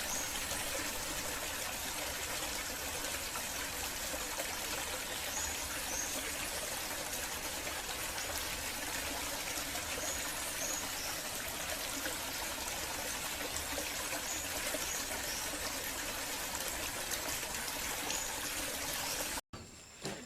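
Receding flood water runs over farmland in Trinidad as a steady, unbroken wash of trickling and rushing, quite faint and without voices, cutting off abruptly at the end.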